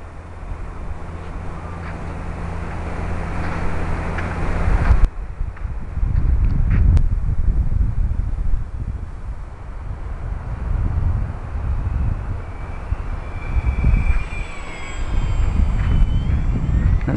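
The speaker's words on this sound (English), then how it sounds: "That's a low pass at full flap" A Durafly HondaJet RC model converted to PT-6A turbine power makes a low pass at full flap, its engine whine swelling and fading against steady wind rumble with a brief sharp change partway through.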